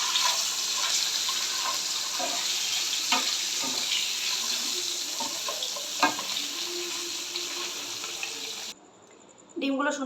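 Boiled eggs rubbed with salt and turmeric frying in oil in a pan, a steady close sizzle with scattered pops and stirring clicks, dropping to near silence briefly before a final burst.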